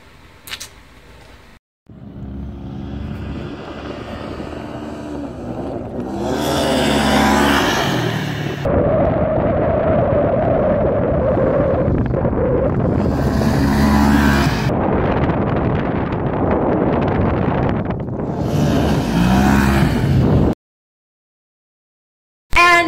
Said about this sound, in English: So you're gonna see now, like we pop some wheelies because that's just how we roll.